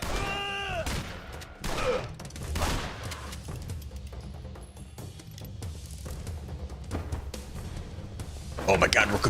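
Gunfire in the video game Blues and Bullets, a fusillade of sharp shots and booms in the opening seconds and again at the end, mixed with game sounds while a player talks over it.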